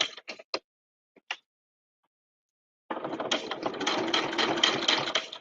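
A sewing machine stitching reverse appliqué, a few brief mechanical taps followed by a steady close whirring run of stitches.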